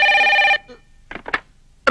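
A telephone in a film scene rings with a loud electronic bell tone, then falls quiet for short bursts of other sound before the ringing starts again at the end.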